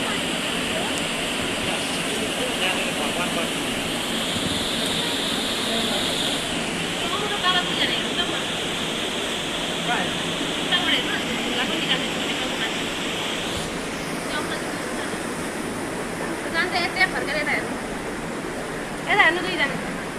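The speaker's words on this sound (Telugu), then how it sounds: "అదిగోండి అద్భుతమైన వాటర్ ఫాల్స్" A waterfall roars inside Gupteshwor Mahadev cave in Pokhara, Nepal: a continuous, dense rushing wash of falling water that stays loud and steady throughout, with faint voices and a few light knocks over it.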